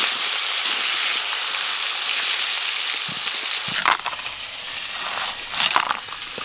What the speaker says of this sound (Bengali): সব কাঁকড়াগুলো ভালো করে ভেজে নেব